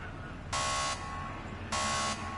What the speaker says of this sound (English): Listen out for the buzzer.